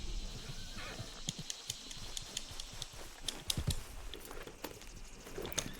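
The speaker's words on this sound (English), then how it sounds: "There's our horse." Horse hooves clip-clop in Red Dead Redemption 2, a scattered, uneven patter of steps with a faint whinny, fairly quiet and heard without any talking.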